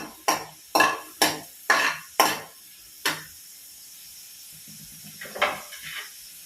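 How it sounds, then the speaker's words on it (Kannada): Garlic frying in a pan for chilli chicken: five sharp, close spatula clanks against the pan in quick succession, then a lone strike and softer scraping with a faint sizzle underneath. No one speaks. "ಇದನ್ನ ಸ್ವಲ್ಪ ಫ್ರೈ ಮಾಡ್ಕೊಳ್ಳೋಣ"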